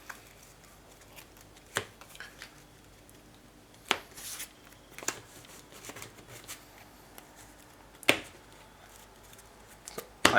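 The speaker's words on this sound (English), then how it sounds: "I'm going to power shuffle again." A deck of trading cards is power shuffled close by in a quiet room: soft rustling and light card clicks, broken by five or six sharper snapping bursts spaced a second or two apart.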